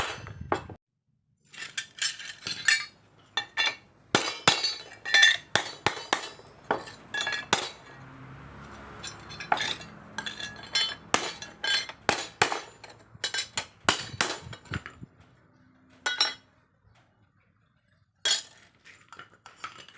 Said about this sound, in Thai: ใช้ค้อนนะครับเคาะนะครับ